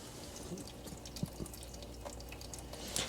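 Motor oil drains from a Countyline log splitter engine during an oil change, a soft steady trickle with occasional drips, close and quiet, with no voices.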